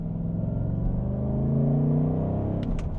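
A 2025 Ford Mustang GT's V8 pulls in second gear, a deep, steady burbling drone that climbs slowly in pitch under light throttle, close and continuous, with a few faint clicks near the end.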